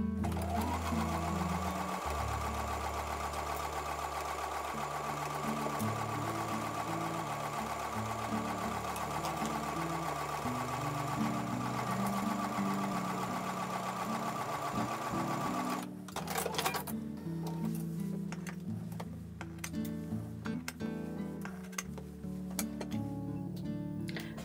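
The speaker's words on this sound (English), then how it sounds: "So I'm going to take those to the sewing machine and sew with a 1/4-inch seam." A sewing machine stitches a quarter-inch seam in a quilt block, a loud, rapid, even whirr for about sixteen seconds, then stopping and restarting in shorter bursts.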